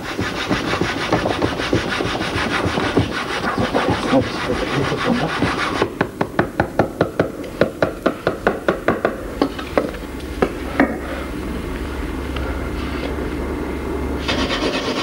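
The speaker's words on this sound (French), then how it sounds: "la scie à feu, permettent d'obtenir rapidement la braise en frottant 2 bambous l'un contre l'autre" Rapid, rhythmic wooden rasping as one bamboo piece is rubbed back and forth against another in a fire saw, steady at first, then slower distinct strokes before fading to a rough hiss.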